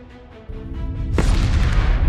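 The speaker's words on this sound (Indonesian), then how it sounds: "bom atom yang berada di jurang pun meledak" An atomic bomb detonates in a ravine: a sudden loud, deep explosion erupts about halfway through, swelling into a sustained rumbling roar that fills the rest of the moment.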